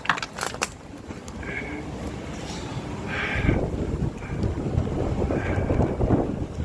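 Strong wind buffets the microphone during an ebike ride, a continuous rough low roar that builds louder toward the end, with a few brief knocks early on.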